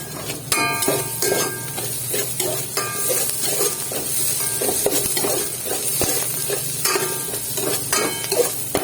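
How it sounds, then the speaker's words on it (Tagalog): Tomatoes sautéing in a hot pan for a creamy pesto pasta sauce: a steady sizzle and frying crackle alongside repeated stirring scrapes and clinks of a utensil against the pan, close and continuous throughout. "Gigisa din natin yung kamatis"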